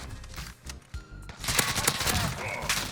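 Rapid bursts of automatic fire from a FAL-style machine gun in a video game, dense crackling shots crowding the second half, with some fainter clatter before.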